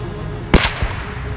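A single sharp gunshot from a firearm set to single-shot mode in the zombie survival game Project Zomboid, followed by a quieter secondary thump, standing alone over a low ambient background.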